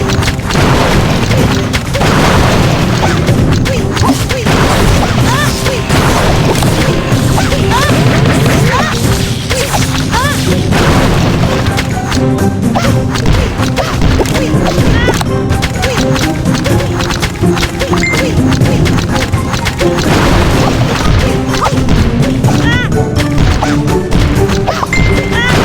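Buildings smashed in the video game Clash of Clans during a town hall attack: a dense, continuous barrage of loud crashes, booms and thwacks over game music and effects.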